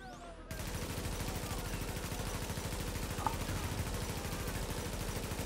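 Rapid automatic gunfire from a video game shooter, a steady fast rattle of bullets running throughout after a brief quiet start, close and fairly loud.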